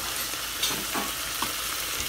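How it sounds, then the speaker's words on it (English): Chicken stew frying in a little oil in a pot, a steady soft sizzle with faint stirring scrapes and light clinks running through, moderately close and without talk. "now I will let it fry with the oil."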